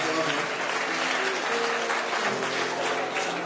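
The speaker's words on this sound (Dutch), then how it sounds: "Aanmoedigend applaus voor Miriam." Encouraging applause from a comedy show audience for a woman named Miriam, a broad wash of many hands clapping steadily with voices audible underneath.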